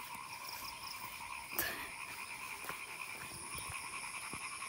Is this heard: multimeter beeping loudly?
no